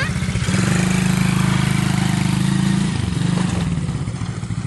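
A motorcycle engine revs hard under full throttle close by, holding a loud, steady throbbing drone before the pitch dips briefly and picks up again.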